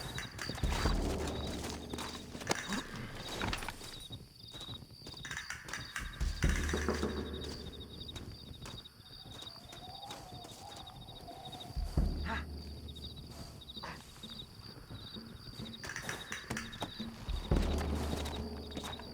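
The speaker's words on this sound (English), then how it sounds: "Looks like Carlos left us some horses." Horse hooves clip-clop in a quick, steady rhythm beneath Red Dead Redemption game music and ambient noise, with the pounding rising and falling as the riders move.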